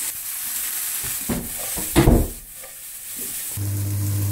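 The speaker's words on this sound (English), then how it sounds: "I'm going to throw in the chicken now, which I've just heated up in the microwave a little bit, chopped it into small pieces." Small pre-warmed chicken pieces drop into a hot pan and sizzle with a steady frying hiss, broken by a few stirring clatters and a louder burst as they go in, before a low hum takes over near the end.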